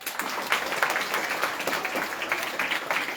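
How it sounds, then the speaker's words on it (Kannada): Students at a camp applaud loudly, a steady, dense roar of many hands clapping close by for the whole stretch. "ಜೋರ ಚಪ್ಪಾಳೆ ತಟ್ರಪ್ಪ"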